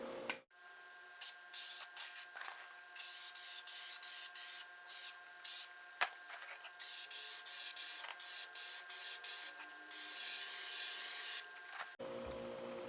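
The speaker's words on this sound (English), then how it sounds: "I'm going to spray glue everything" Spray glue hissing from a can onto foam padding for a Triumph Spitfire Mk2/3 seat bottom, with repeated short and longer bursts close to the microphone and quiet gaps between them.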